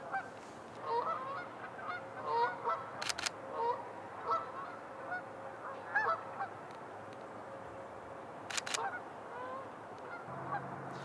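Geese honking on a river, several sharp calls scattered through the clip over a steady outdoor background with faint bird chatter; no one speaks.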